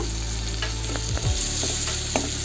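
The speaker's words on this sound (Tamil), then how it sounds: "இப்போ கூடவே மஞ்சத்தூள் சேர்த்து வதக்கி விட்டுக்கோங்க" Ingredients sautéing with turmeric in a pan for South Indian crab gravy, a steady close sizzle and frying hiss with a few soft stirring scrapes, no voices.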